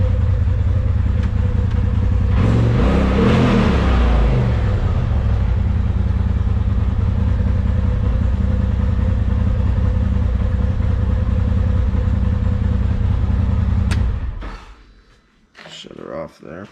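A Chevrolet Colorado ZR2 pickup engine gives one quick rev early on, then settles into a steady, rumbling idle before cutting off, followed by brief clatter.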